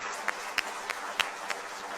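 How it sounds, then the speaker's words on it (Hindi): Faint, distant audience applause at a Republic Day speech at SRM University, honouring Subhash Chandra Bose: a thin, steady patter of clapping with a few sharper individual claps standing out. "हम जोरदार तालियां सुभाष चंद्र बोस जी के लिए बजाएं"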